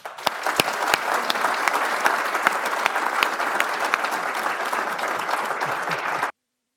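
Lecture-hall audience applauding to welcome artist and lecturer Makoto Fujimura, a steady dense clapping lasting about six seconds and then cutting off abruptly.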